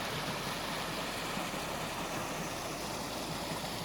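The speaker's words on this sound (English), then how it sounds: "Here's another view of Pickle Creek." Pickle Creek flowing beside a hiking trail at Hawn Park, a soft, continuous babble of running water at moderate distance, steady and unbroken with no voices.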